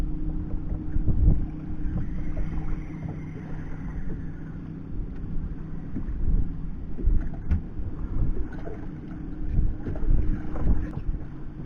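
A fishing boat under way on inshore water off Panama City, its low engine drone steady and close throughout, with gusts of wind buffeting the microphone and no talk.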